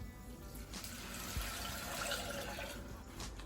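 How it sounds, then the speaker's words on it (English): Broth poured from a container into a pot of butter-coated rice, a soft continuous liquid stream and splashing that swells slightly partway through, fairly quiet and close with no talk. "I'm gonna go ahead and pour in my 2 cups of broth"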